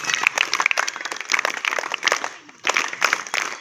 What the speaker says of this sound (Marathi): तुम्ही स्वतःसाठीच टाळ्या वाजवा सर्वांनी